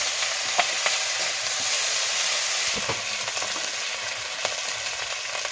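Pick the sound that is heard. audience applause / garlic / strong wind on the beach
garlic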